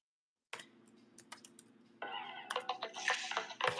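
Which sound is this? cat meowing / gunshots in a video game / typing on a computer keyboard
typing on a computer keyboard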